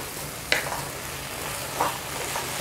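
Dried radish strips stir-fried in a pan give a steady low sizzle with two or three brief scraping clicks from stirring, no voices present.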